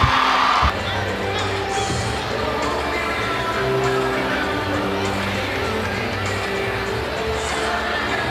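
Spectators fill a gym at the 2014 Tennessee AAA state championship basketball game between Oak Ridge and Blackman, a steady loud roar of cheering and shouting throughout, with an announcer talking over it.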